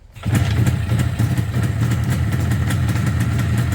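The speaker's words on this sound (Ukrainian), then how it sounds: "капиталка двигателя, все выставлено, все красиво, запускаю." An Izh Jupiter 4 motorcycle engine, freshly rebuilt with new bearings, seals and Suzuki TS185 pistons, starts after a brief silence and settles into a steady, loud, close idle at low revs.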